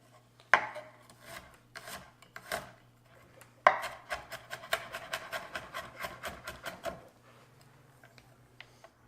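A knife finely slicing garlic on a cutting board: two isolated chops, then a rapid run of sharp, evenly spaced taps, close and fairly quiet with a low hum beneath.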